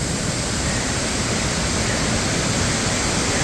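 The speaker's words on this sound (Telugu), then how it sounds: "మీ అందరికీ అద్భుతమైన వాటర్ ఫాల్స్ చూపిద్దామని" A loud, steady roar of rushing water, constant and unbroken, like a nearby waterfall crashing down, at Taraabu Waterfalls.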